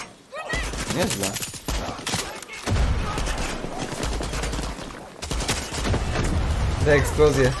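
Explosions and rapid gunfire in the video game Far Cry 6 crash and rattle almost without pause, with heavy booms and dense volleys of shots, loud and close.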